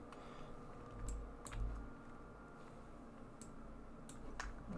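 Typing on a computer keyboard at a desk, quiet clicking keystrokes tapping in short irregular bursts under a low room hum, close but faint.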